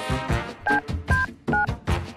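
Telephone keypad tones in an animated comedy sketch, a handful of short beeps in quick succession, close and clear, mixed with other cartoon sounds.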